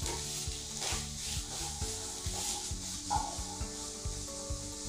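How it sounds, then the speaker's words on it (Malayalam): Chickpeas being stirred into a yam stalk stir-fry in a pan, with steady scraping and rubbing strokes of the spoon that repeat about once a second, close by, over a light sizzle. "കടലയും കൂടി ചേർത്തിട്ട് നമുക്ക് നന്നായിട്ടൊന്ന് ഇളക്കി യോജിപ്പിക്കാം"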